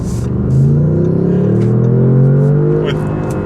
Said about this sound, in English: when you combine that with a ruddy big V8 like this has